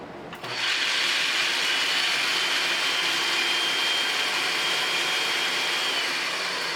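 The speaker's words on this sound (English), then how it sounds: "take my 1 cup of walnuts, put it in here in my food processor" A food processor grinds a cup of walnuts into crumbs, a loud, steady motor whir with rattling chop that starts abruptly and runs continuously.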